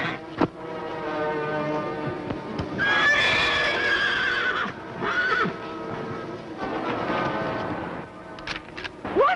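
A horse neighs and whinnies repeatedly in a 1950s western drama, loud shrill calls rising and falling over several seconds, with faint hoofbeats between them.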